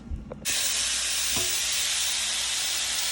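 Steak fajita meat drops into a pan with about a teaspoon and a half of oil on the stove and breaks into a loud, steady close sizzle that carries on without a break.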